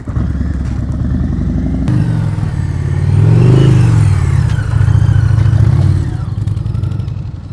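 A motorcycle engine runs during slow-speed riding practice, idling with a clattering rumble that rises into a longer rev before settling back to a lower, steady putter, loud and close throughout.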